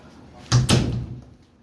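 A newly installed room door is shut once in a house under construction, giving a short, close thump with a quick second knock as it closes.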